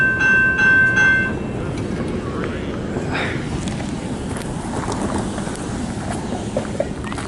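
A CN freight train, a long-haul manifest, rumbles and clatters steadily past at close range, with a horn tone fading at the start and people talking over the noise.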